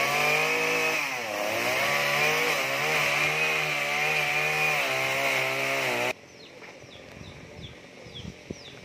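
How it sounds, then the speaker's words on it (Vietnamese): A chainsaw runs loud and steady, cutting through the fronds of a tall palmyra palm, then cuts out abruptly, leaving wind and faint birdsong with scattered knocks. "Thôi để giờ ảnh hồi ảnh cưa hết lá mình quay cho các bạn xem nha."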